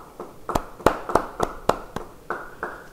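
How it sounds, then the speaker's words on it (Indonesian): A church congregation claps, about nine crisp, separate claps in a loose rhythm that thin out toward the end, with no speech over them. "beri tepuk tangan buat Tuhan"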